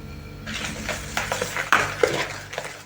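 Spoon scraping and clinking against a bowl while paska dough mixture is stirred, with irregular taps and rubbing strokes at close range.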